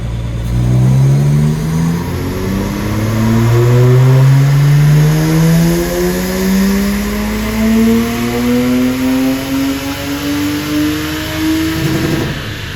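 A Lexus IS200 engine on a dyno revs hard up through the gears, each loud, rising pull dropping briefly at the shift before climbing again, close and alone.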